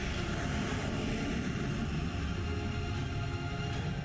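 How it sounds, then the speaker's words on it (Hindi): Four Rafale fighter jets fly past at the Bastille Day parade, a steady, faint, broad jet roar with a low rumble throughout and no voices. "इसके ठीक बाद फ्लाई पास करते नजर आए 4 रफाल लड़ाकू विमान"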